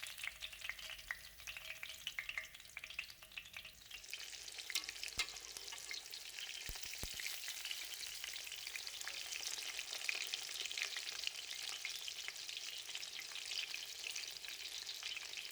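Chicken katsu cutlets fry in hot oil with a steady, close crackling sizzle that grows brighter and denser partway through, continuing alone without voices.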